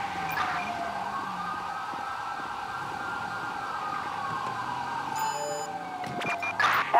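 A wailing ambulance siren in the video game GTA V sweeps up and down continuously at a steady, moderate distance, with a brief burst of higher electronic tones near the end.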